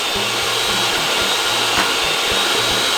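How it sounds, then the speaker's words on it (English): A hand mixer whips chocolate chip cookie dough in a bowl, giving a loud, steady motor whine with a faint pulsing beat that runs throughout without talk. "I don't have a KitchenAid, so I'm using a hand mixer."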